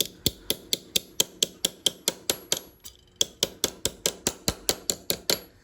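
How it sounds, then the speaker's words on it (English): Metal is hammered on a small anvil for fold forming, a steady run of sharp, ringing blows, evenly spaced and close, with a brief pause partway before the rhythmic strikes resume. "So I'm going to hammer down."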